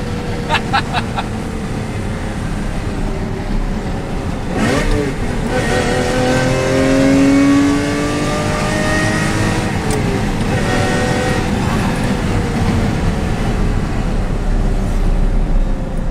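A Ferrari engine blips on a downshift, then roars as revs climb through a long acceleration, heard loudly from inside the car with a window slightly open.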